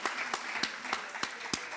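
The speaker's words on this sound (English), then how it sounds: "A bigger round of applause than that" Audience applause at a Jamaican music and culture event, soft and fairly distant, with a few sharper claps standing out from the continuous patter.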